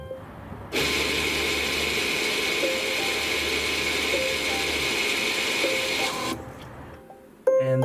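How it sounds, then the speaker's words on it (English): A Volvo electric parking brake motor in rear brake service mode retracts with a steady, loud mechanical whir lasting about five and a half seconds, then stops, followed by a brief click near the end. "you will hear the motor working in the back"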